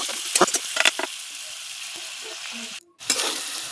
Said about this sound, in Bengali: প্রথমেই বরবটিগুলোকে ভেজে নিচ্ছি